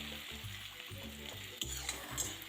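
Eggplant and fish frying in a pan while the water dries off, heard as a faint, close sizzle broken by repeated spatula stirs and scrapes at a loose rhythm, with no voices.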